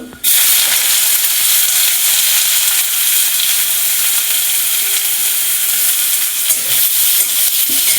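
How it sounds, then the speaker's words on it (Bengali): Sliced onions hit hot oil in a pan for chicken curry and erupt into a loud, close, continuous sizzle that holds steady throughout, with faint stirring scrapes and no talking. "এবারে পেঁয়াজ দিয়ে দেবো"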